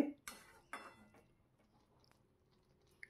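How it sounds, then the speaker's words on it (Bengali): Metal spoon scraping and clinking in a pan while banana flower ghonto is stirred with sugar: a few sharp scrapes near the start, then quieter, fading movement. "চিনিটা দিয়ে ভালো করে ওপর নিচ নাড়াচাড়া করে"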